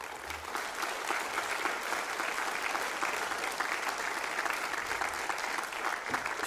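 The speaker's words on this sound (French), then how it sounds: "Vous pouvez les applaudir, s'il vous plaît." Sustained audience applause at a maritime adventure forum in France honouring sea rescuers, a dense, even wash of many hands clapping throughout, moderately distant.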